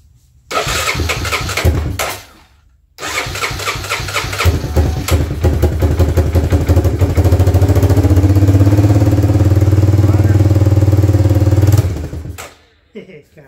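A Honda Fourtrax ATV engine cranks, catches briefly, then starts and runs on choke, settling into a loud, steady, close idle before cutting off; voices can be heard around it.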